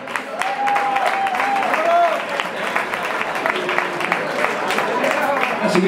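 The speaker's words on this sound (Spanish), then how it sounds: "Así que un aplauso para vosotros." Rock concert crowd applauding and cheering on a rainy day, with dense, sustained clapping and whoops throughout, while voices shout over the noise.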